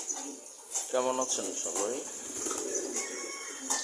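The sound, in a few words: pigeons cooing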